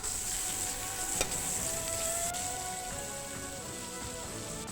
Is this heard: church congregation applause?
no